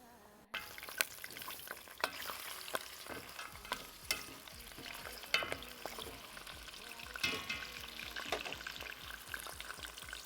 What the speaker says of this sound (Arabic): توا ديريكتومون نرميو اللحم العلوش